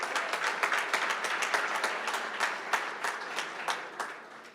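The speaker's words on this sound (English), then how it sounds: "Let's give a round of applause for God." A crowd at an awards celebration claps loudly and steadily, individual claps standing out within the sustained applause.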